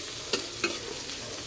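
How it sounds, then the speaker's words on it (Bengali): A freshly ground spice paste with coriander powder is stir-fried for a pointed gourd curry, producing a continuous close sizzle broken by two sharp utensil scrapes against the pan. "একদম এখন ভালোভাবে মশলাটা কষিয়ে নিব।"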